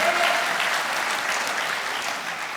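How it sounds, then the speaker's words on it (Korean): Loud, steady applause from a crowd at a construction union general assembly, a thick continuous patter of many hands that stays strong and even throughout. "힘찬 박수 환영해 주십시오."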